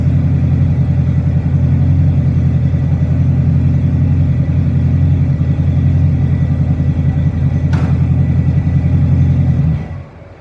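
A 1973 Dodge Dart engine idling with a deep, loud, steady exhaust rumble through a single chamber muffler, a brief click as it is put in gear, then the engine stalls and cuts out near the end.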